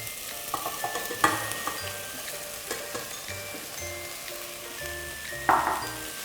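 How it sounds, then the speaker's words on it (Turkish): Diced potatoes and broccoli florets sauté in a soup pot with a soft continuous sizzle, while a spoon scrapes and clinks against the pot in irregular strokes. One louder clatter comes near the end, and nobody speaks. "Şimdi şöyle bir patateslerle birlikte de çeviriyorum. Ve brokollerimi ekliyorum."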